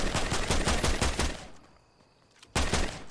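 Rapid gunfire from a weapon in the Fortnite video game: a burst of close, loud shots, a short lull, then another loud burst.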